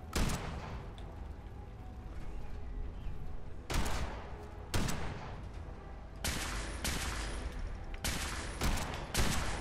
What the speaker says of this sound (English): But my bullets are doing next to nothing to Ahab